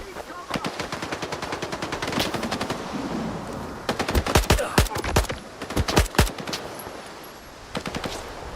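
Rapid automatic gunfire from the video game S.T.A.L.K.E.R. 2 crackles in short bursts, with sharp loud volleys clustering near the middle and end and brief pauses between them.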